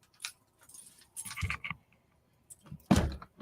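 A set of keys jangles and clinks in short bursts, close and fairly loud, with pauses between handlings and a sharper rattle near the end.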